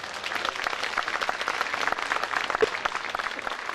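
Dense, steady applause from an audience at a memorial program welcoming performer Bahattin Turan, many hands clapping together in a continuous crackling roar with no speech.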